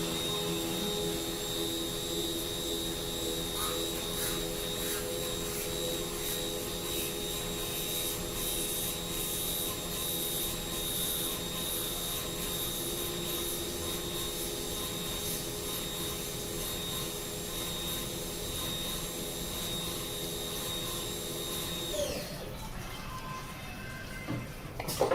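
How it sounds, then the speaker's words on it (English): A CNC machine runs a 3/16 jobber drill through a screwdriver body workpiece, with a steady whining hum and drone that holds level, then drops off sharply near the end. "So I'm going to use a 3/16 jobber drill and basically drill a hole"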